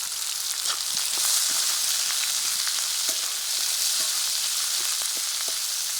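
Chopped onions with green chillies and whole spices such as bay leaf, cardamom, cloves and cumin frying in a pan for a jackfruit curry, a steady close sizzle and crackle running throughout with no talk.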